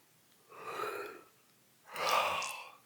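A person yawns twice in a quiet room during a relaxed breathing session, each drawn-out breathy yawn lasting about a second and a half, close and clear with a pause between.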